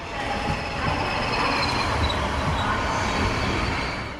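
A German ICE high-speed train rushes past with a loud, continuous roar of wheels on rails and a faint metallic squeal, steady throughout with no voices.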